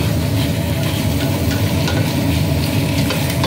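Chicken for Arabic-style mashbos frying with onion and garlic, giving a loud, continuous sizzle with constant stirring and scraping in the pan, close up and alone.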